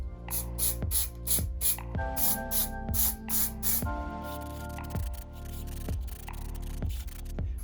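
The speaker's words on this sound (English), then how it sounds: "the paint I'm going to be using is just some auto primer. So we're going to get this on first." Auto primer sprayed from a can onto a 3D print in repeated short bursts, loud close hissing pulses with rattly clicks between them, alone without talk.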